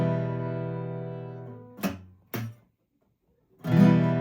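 Roughly played guitar chords from someone practising a song: a sustained strummed chord rings and fades, followed by two short, choppy strums, a brief pause, then another loud strum, close and alone.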